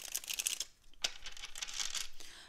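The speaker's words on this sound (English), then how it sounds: "As I shuffle the cards, I want you to think of your romantic situation" Tarot cards shuffled by hand, two close bursts of papery riffling and crinkling separated by a brief pause, fairly faint and without talk.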